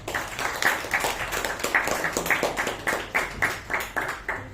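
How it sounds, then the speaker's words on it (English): A few people at a club meeting clap after a table topics session, sparse rhythmic claps with a fairly even beat that stay moderately close and carry on throughout without talk. "A huge round of applause to the table topic"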